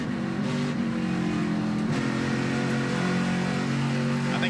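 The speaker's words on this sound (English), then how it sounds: "I think just one wheel is driving that car, and that's why he was pedaling the throttle there" An ARCA Menards Series stock car at Pocono Raceway roars steadily from an onboard position, the engine note rising and falling as the driver pedals the throttle, loud and continuous throughout.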